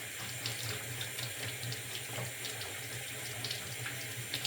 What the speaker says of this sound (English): I can get it wet now and wash it off.